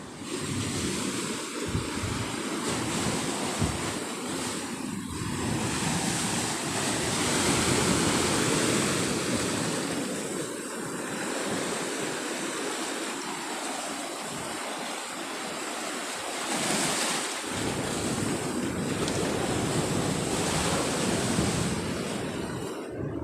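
Big sea waves roll onto the shore in a constant loud roar of surf, mixed with wind buffeting the microphone and swelling at intervals, with no voices.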